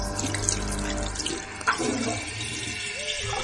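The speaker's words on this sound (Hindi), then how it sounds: "फ्लश की आवाज जब बंद हुई" Rushing water from a toilet flush pours and swirls into the bowl, then settles into a gurgling trickle as the tank refills.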